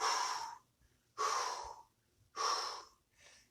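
Heavy breathing during a dynamic partner workout, three loud forceful exhalations at a steady pace close to the mic, followed by a softer fourth breath.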